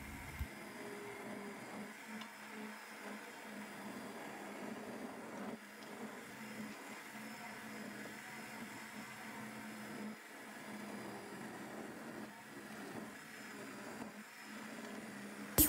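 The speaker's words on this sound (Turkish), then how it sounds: "Hemen blender yardımıyla pürüzsüz olana kadar çekiyorum." A kitchen blender purees soft boiled potatoes and their water into a smooth soup, a steady whirring motor drone running throughout at moderate volume with no talk.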